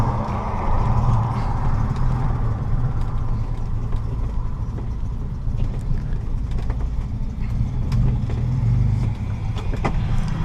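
Austin A90 Westminster classic car being driven, a steady low engine rumble with cabin rattles and small clicks throughout, close and continuous, with a voice faintly under it.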